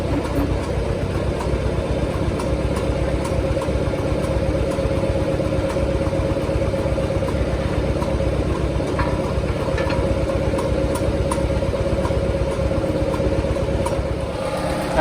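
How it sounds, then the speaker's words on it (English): A 1956 Farmall 200 tractor engine idles continuously at close range, a steady low chugging drone with faint rattles and ticks over the top. "I think I can shut the tractor off now"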